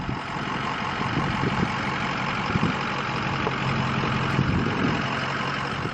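Heavy truck engine running steadily at low revs while shifting a fifth-wheel luxury RV with its slides out on uneven ground, a continuous close rumble with no talk.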